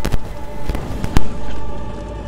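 Fireworks go off in The Dark Pictures Anthology video game, several sharp bangs spaced irregularly over a steady background hum, followed by a softer sustained swell.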